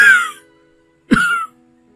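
An elderly father coughing weakly indoors: two separate short coughs with a pause between them, close and fairly loud, with no one talking.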